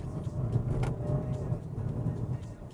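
Steady low tyre rubber and road rumble fills the cabin of a BMW X1 diesel cruising above 100 km/h, a constant moderate drone without talking.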